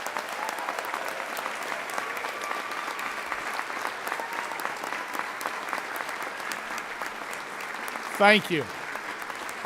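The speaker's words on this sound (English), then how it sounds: "would you please recognize all these students with a round of applause?" An audience at a university honors convocation gives sustained applause for the students, a dense, even clatter of many hands lasting several seconds before a brief spoken thanks near the end.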